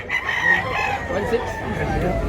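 Chickens, big-size roosters on sale at a Tabunok, Cebu market, crow and cluck close by in a busy, noisy setting, with market chatter running steadily underneath.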